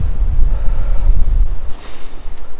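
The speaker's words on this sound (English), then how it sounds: "Whilst we do get lots of days much like this, breezy, windy days" Wind blowing on a breezy day in Wales, a gusty low rumble buffeting the microphone in uneven surges, loud and close with no voices.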